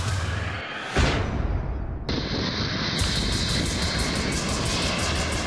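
A loud, continuous business jet engine roar fills the clip, with a sudden harsh shift in tone partway through.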